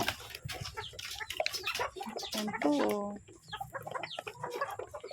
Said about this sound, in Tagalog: Ang ganda ng mga inahin, no?